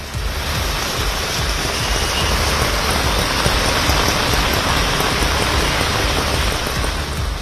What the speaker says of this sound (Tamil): சென்னையின் பல்வேறு பகுதிகளில் பரவலாக பெய்த கனமழையால் குடியிருப்புகளை சூழ்ந்த வெள்ளம்